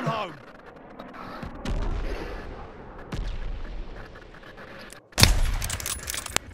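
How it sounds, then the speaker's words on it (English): Incoming mortar shells land in a video game, a run of scattered booms and cracks ending in one sharp, loud impact burst, mixed with busy game noise and a voice under it. "They're sending mortar shells."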